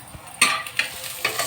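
A tempering fries in a pan for pakodi pulusu, a close hiss of sizzling oil broken by quick stirring scrapes, with no voices.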